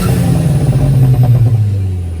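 A tuned Volkswagen GTI making about 389 horsepower runs close by with a steady, loud low engine note throughout, the tone dropping slightly toward the end as it settles.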